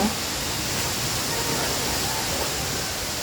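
Water poured onto a lettuce plant, a steady broad splashing hiss that runs for the whole few seconds without a break.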